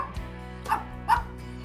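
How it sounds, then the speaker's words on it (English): A pet dog gives two short barks, moderately close, separated by a brief pause against a quiet indoor background. "My wife and I own a dog named Robbie"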